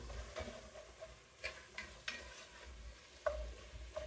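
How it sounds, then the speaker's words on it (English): Sugar, about two tablespoons, heating in a pan as the first step of a brown stew chicken, giving a faint, quiet sizzle broken by a few soft scraping stirs and light clicks, with no talk. "So we're gonna caramelize this until it becomes brown."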